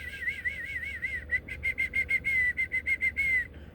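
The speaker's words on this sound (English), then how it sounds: "He pays attention to that whistle." A person whistles a steady, warbling tone, then a run of short, evenly spaced whistle bursts, trying to catch the attention of a small young raccoon at a home. Close and clear over a faint low background hum, with no talking.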